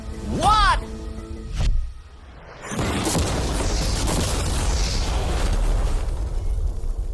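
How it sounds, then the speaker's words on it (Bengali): A car packed with mannequins is blown up outdoors: a sharp whooshing burst and a heavy boom, then a loud crack followed by a long roaring, crackling rumble of debris and fire that fills the rest of the scene. "বিস্ফোরণটা এত জোরে হয়েছে যে ভিতরের ম্যানিকুইন গুলো ছিটকে এদিক ওদিকে বেরিয়ে গেছে।"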